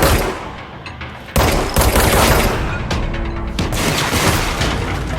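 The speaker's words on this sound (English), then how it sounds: "I'm getting shot at." Enemy gunfire in the action game Control, a loud dense fusillade of rapid shots and impacts that jumps in intensity and keeps rattling near and continuous, with no talking.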